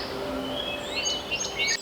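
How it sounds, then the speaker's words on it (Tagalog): Birds sing at sunrise with bright, rising chirps and whistles over a soft steady background, near and clear for a short moment. "ang mga ibon ang bida sa kantahan"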